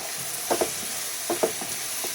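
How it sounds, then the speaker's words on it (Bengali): Onion, garlic and chili frying in oil for a dried-fish curry, a steady close sizzle with a few short stirring scrapes of a spatula in the pan, and no talking. "পেঁয়াজ আর রসুন মরিচটাকে একটু বাদামি কালার করে নিব।"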